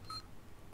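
Electronic beeping from the survival horror game Alien: Isolation, a single short, clean two-tone beep at the start that stands alone over a quiet background before fading out.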